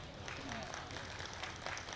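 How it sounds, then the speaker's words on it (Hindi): Audience at an Urdu poetry recital, a mushaira, applauding in a steady, dense patter of clapping that fills the hall, with a speaking voice partly mixed in. "मैंने पढ़ लिया इसलिए भी ताली बजा दी ताकि मैं चला जाऊं"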